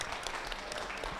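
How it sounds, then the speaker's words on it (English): A faint, brief burst of audience applause rises in a beef cattle show ring at the Alberta Provincial Show, a distant spatter of claps for the exhibitors. "Please give these exhibitors a big round of applause"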